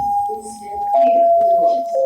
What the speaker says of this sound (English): You guys know those are the TTC chimes?